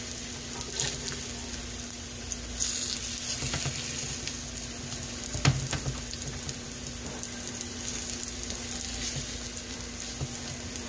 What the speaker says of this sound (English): we're going to let that fry up